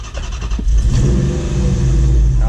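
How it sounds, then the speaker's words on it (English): A car engine revs hard in preparation for a burnout, a loud, close, rising roar that climbs quickly and then holds at high RPM. "rev it up and dump the clutch"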